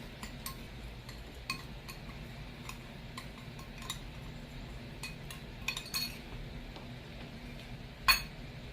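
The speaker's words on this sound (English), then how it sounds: "I'm going to go ahead and mix them up really good like this" Spices and brown sugar are mixed in a bowl for ribs, a soft continuous scraping with light, scattered clinks of a utensil against the bowl and one sharper knock near the end.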